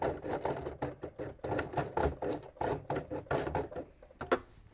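Sewing machine stitching a seam on a denim workwear jacket, heard as a steady run of rapid mechanical needle clatter in quick bursts with short pauses, fairly close and alone.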